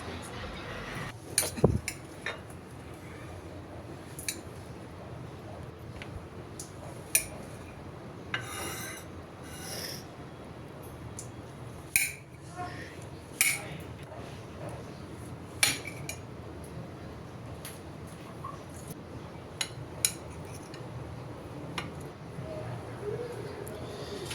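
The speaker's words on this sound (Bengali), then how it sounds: "তারপরে তো পেয়ারা কেটে নিলাম, আর ড্রাগনগুলো ছোট ছোট করে কিউব করে কাটলাম।" Knife strokes cutting guava and dragon fruit into small cubes, scattered sharp taps and clicks against a board spaced irregularly under a quiet background.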